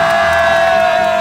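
A large crowd of people screams and cheers loudly and continuously, a dense wall of voices with a sustained high shrill tone running through it.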